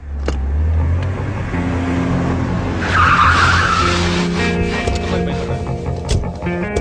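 A car skids with a loud tire squeal and engine roar in a Tamil short film scene, the screech peaking midway, close and loud, with voices and background noise around it.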